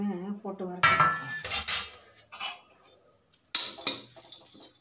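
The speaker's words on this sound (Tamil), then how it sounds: "சுக்கு ஏலக்காய் ரெண்டையுமே போட்டு வறுத்துறேன்" Dry ginger and cardamom dry-roasting in a pan for a protein sweet: sharp metallic scrapes and clinks of a spoon against the pan in bursts, with a short stretch of voice at the start.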